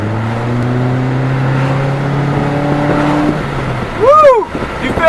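A 2013 Mitsubishi Lancer ES accelerates, its steady engine drone climbing before a sharp swooping rush near the end, with excited voices mixed in.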